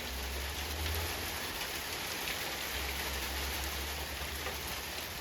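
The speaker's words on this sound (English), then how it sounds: "Looks like we got hail." Hail falls outside as a dense, steady hiss of countless small impacts with a low rumble underneath. It holds at an even, moderate level throughout with no voices.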